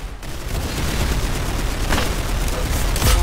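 Gunfire in the Roblox game Arsenal comes as a loud, continuous crackle of shots with a sharper burst near the end.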